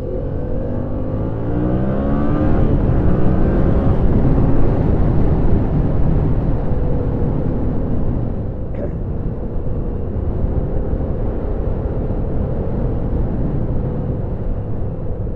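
A 2014 Yamaha MT-07 motorcycle engine drones steadily while riding, a broad loud rumble mixed with wind noise that swells briefly early on, with a person talking over it.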